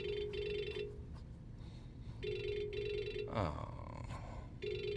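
Telephone ringing with repeated bursts of an incoming-call ringtone, loud and close, with a brief spoken exclamation partway through.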